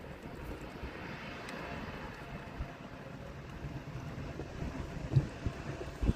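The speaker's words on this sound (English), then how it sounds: "And there we have Carlem City Hopper landed just now from Cardiff to Amsterdam. This is an Embraer" KLM Cityhopper Embraer E175 landing at Amsterdam Schiphol on the Polderbaan runway, heard from a distance: a faint, steady jet roar mixed with wind buffeting on the microphone, with a few louder thumps near the end.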